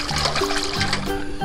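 Water splashes and trickles over a plastic toy being washed, a steady running, splattering sound close by with a faint tonal hum underneath.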